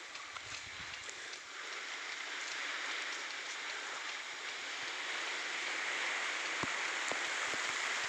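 Spray from a farm irrigation sprinkler falling on a field like rain, a steady hissing wash of droplets that builds slightly over time, with a few faint ticks and no talking.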